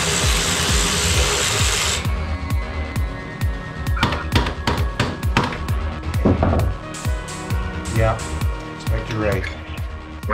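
Hand tools and a power tool work on a 2023 Can-Am Renegade ATV during a suspension swap: a steady loud whir gives way to rapid repeated clicks and clanks, with speech mixed in.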